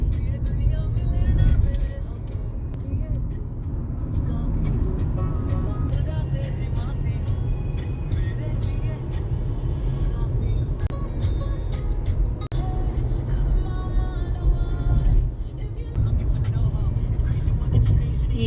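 Interior drone of a Volkswagen Taigun automatic cruising on an expressway, a steady low road and engine rumble with tyre noise, heard under ongoing talk.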